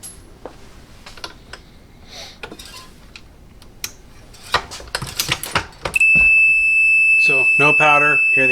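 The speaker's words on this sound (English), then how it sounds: "Hear the alarm." The no-powder alarm on a Dillon XL reloading press sounds as a loud, continuous electronic tone. Metallic clicks and clinks of press handling come first, and someone talks nearby.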